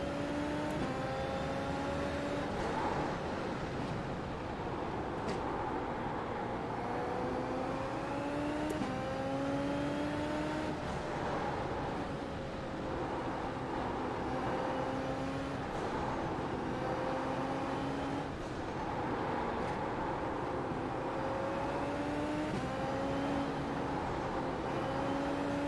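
A Super Formula race car in iRacing, its engine whining loud and steady throughout as it revs and shifts repeatedly on a tyre warm-up run, rising pitch sweeps broken by gear changes.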